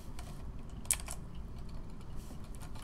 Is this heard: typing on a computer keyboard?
yes